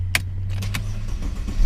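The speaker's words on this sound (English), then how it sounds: "I'm gonna turn the ignition on, see if that fixed anything." A Mercedes car's ignition is switched on after a brake light switch replacement, giving a low steady electrical hum with a few short clicks and chimes close by, no talking.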